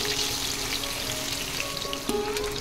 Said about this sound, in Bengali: মাছের পিসগুলো আমি এপিট ওপিট করে হালকা ব্রাউন করে ভেজে নিচ্ছি।